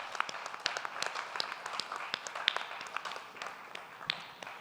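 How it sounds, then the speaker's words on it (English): An audience applauds at the end of a conference session, a moderate, scattered patter of hands clapping in a room that gradually thins out over a few seconds. "And we can have a round of applause."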